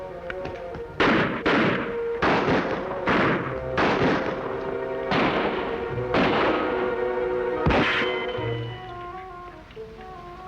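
About eight loud gunshots go off in an uneven series, each a sharp crack with a ringing, echoing tail, followed by a quieter rumble with no talking.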